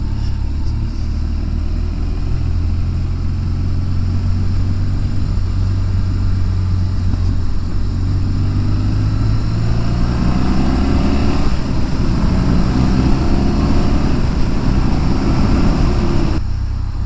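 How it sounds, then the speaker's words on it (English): A 2008 BMW R1200 GSA motorcycle rides through a narrow village street, its engine droning steadily and close with wind rumble, shifting in pitch partway through. "So I'm riding the 2008 BMW R1200 GSA"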